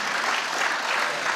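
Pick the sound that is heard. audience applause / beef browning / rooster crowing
audience applause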